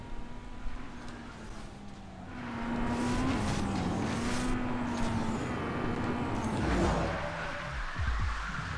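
A BMW M3 engine in Need for Speed Most Wanted revs and shifts, its tone rising and falling as it builds into a loud, sustained roar, with brief tire noise and no talk.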